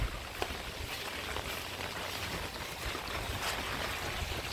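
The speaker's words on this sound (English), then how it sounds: "All the water coming out of that the neighbor's downspout" Rainwater pours steadily from a neighbor's downspout into a yard surface drain, a continuous broadband rush and splash of flowing water with no break.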